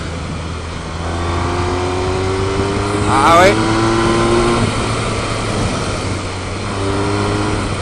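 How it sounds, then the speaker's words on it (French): A Honda VFR1200 V4 motorcycle accelerating hard, its engine tone rising steadily through the gears, loud and close from the rider's position, with a short exclamation from the rider partway through. "Et puis définitivement ce V4, ça accélère fort. Et c'est sonore comme on les aime."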